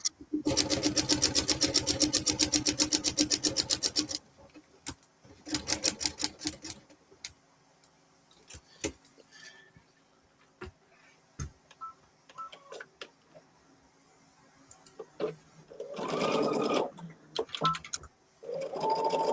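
A sewing machine stitching quilt blocks together runs in a fast, loud mechanical chatter for a few seconds, then gives short stop-start bursts between quiet handling noises.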